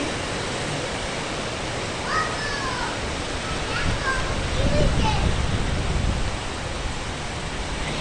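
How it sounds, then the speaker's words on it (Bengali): Dense steady rainfall roars continuously after a hailstorm in Dhaka, a heavy wash of noise with faint voices talking beneath it. "এখন একটু শিলা পড়াটা বন্ধ হয়েছে, এখন শুধু বৃষ্টি পড়তেছে।"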